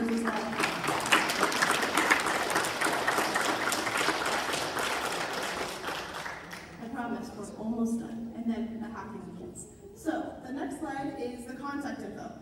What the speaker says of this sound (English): give a huge round of applause to these 2 team members as well